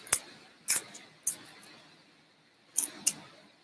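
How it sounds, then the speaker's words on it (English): Paper backing is torn from an adhesive vinyl decal in short, crisp rips, with five quick tearing bursts spaced across a quiet room. "You can take a knife or scissors and usually just tear it."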